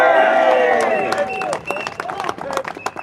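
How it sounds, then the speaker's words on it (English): Protest crowd applauding and cheering outdoors, dense clapping and raised voices that start loud and full, then thin out into scattered claps and calls. "Give yourselves a round of applause and make some noise"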